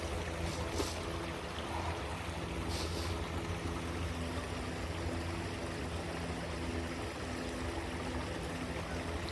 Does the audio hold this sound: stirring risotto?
no